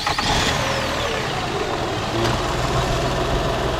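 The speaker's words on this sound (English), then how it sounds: "She's cranking it." A 2006 Toyota Sienna's engine is cranked as its radiator fans come on, making a loud, continuous, dense mechanical roar that holds steady close by throughout, with no talking.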